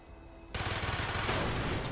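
Heavy sustained automatic gunfire erupts after a quieter half-second, loud and continuous in a chaotic shipboard battle from the Call of Duty: Black Ops video game, as Reznov shoots the beams.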